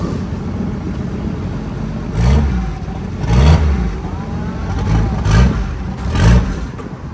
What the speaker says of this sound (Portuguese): Vem queimando a embreagem, você segura a embreagem, entendeu?